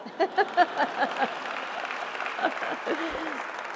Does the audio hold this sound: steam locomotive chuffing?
no